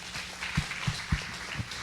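A church congregation applauding, with soft, rhythmic claps roughly every third of a second under a quiet, diffuse room wash.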